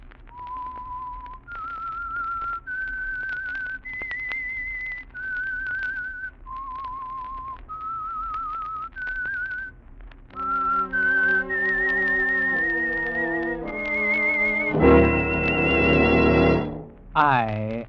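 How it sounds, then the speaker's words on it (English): A person whistles a slow, clear melody of sustained notes, the theme of the radio mystery program The Whistler, then a brass-and-strings musical fanfare swells in and ends loudly. "That whistle is your signal for the Signal Oil Program"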